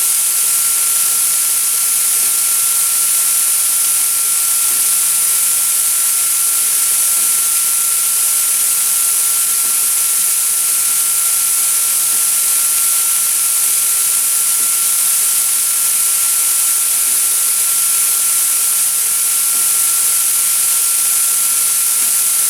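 The motor of a Tipton EFF-205FA automatic centrifugal finishing system hums steadily for a long stretch, with a constant hiss and a thin whine throughout.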